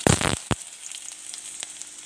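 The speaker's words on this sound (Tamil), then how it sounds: "இப்போ நம்ம தேவையான அளவு கடுகு சேர்த்துக்கலாம் இது நல்லா பொரியணும்" Mustard seeds crackle and pop in hot oil while tempering coconut chutney, a few sharp bursts at first, then a steady soft sizzle with occasional spits.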